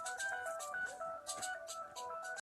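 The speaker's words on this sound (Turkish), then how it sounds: "telefonu şu anda çalıyor" A phone rings on a sheep farm with a bright electronic melody that loops continuously, close and clear, with no talking.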